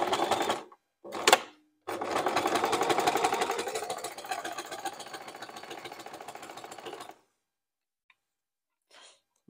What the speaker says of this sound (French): Et je couds tout le long et je n'oublie pas mon point d'arrêt